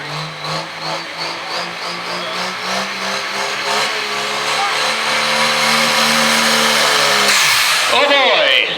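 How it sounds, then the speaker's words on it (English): A pulling truck engine roars under heavy load at a Pennsylvania truck pull, its loud droning pitch climbing steadily, then a sharp crack and abrupt change as a crossover pipe pops off near the end. "Kind of sounded like a crossover pipe popped off there."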